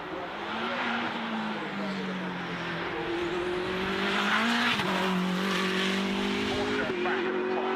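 A car engine drones steadily and loudly, distorted up close, its pitch drifting and swelling midway as if revving, with a continuous gritty roar throughout.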